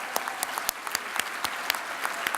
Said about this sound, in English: let's give them a round of applause for their service and thank you for being here